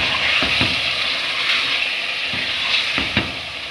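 Ground spices (salt, chili, turmeric, dried coriander and cumin) hit a pan of frying chicken with a loud, close sizzle, punctuated by a few scraping stirs.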